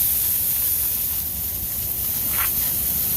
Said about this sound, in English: Just hit it with water.